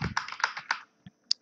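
Keys clatter on a computer keyboard in a short burst of typing in Microsoft Word, a quick run of close clicks followed by a pause and a couple of isolated taps.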